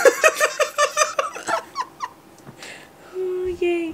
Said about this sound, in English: It's a chihuahua dog.